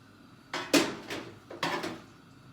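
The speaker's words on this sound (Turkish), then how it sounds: "Şimdi tenceremin içine bu kayısıyı koyuyorum arkadaşlar." Apricots dropped into a cooking pot for making apricot fruit leather, two separate clattering impacts close by, each a sharp knock followed by a short rattle, with no talking.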